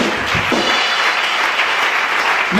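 A congregation breaks into dense, sustained applause, a loud and steady wash of clapping from many hands with a few faint voices mixed in.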